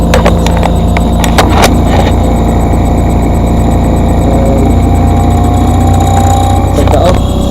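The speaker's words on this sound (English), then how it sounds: "because it's a pulse motor. It's not a DC motor" A Bedini pulse motor runs with a steady mechanical hum and faint rhythmic pulsing, broken by a few sharp clicks near the start and end.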